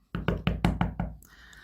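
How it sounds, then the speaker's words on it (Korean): Six firm knocks rap on the door of an inn at night in a children's Bible story, evenly spaced and close, followed by a quiet tail. "정탐꾼들은 라합이라는 여자가 운영하는 여관의 집에 문을 두드렸어요."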